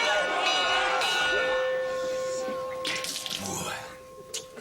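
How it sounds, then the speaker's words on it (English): A bell rung during a military training scene in the film G.I. Jane, signalling trainees dropping out, heard as sustained ringing tones under film noise and overlapping voices. "we now see the use of the bell."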